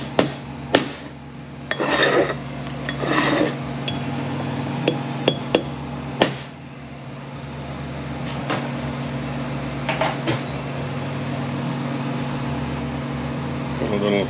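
A Ford 4R70W automatic transmission rebuild in a workshop: a bushing is staked in place with a series of sharp metallic taps and clinks, irregularly spaced over a steady background hum, loudest early on.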